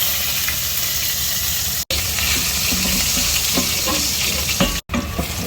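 Garlic sizzling and frying in hot oil for a Chinese-style steamed fish, a steady loud crackling hiss with occasional stirring scrapes, close and continuous with two brief cuts.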